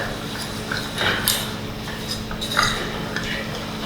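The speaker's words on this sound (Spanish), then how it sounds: "Primero, mezclamos y vamos a mezclar." A pot of caramel made from sugar and invert sugar being stirred, a utensil clinking and scraping against the metal in irregular strokes, close and fairly loud, with faint kitchen background.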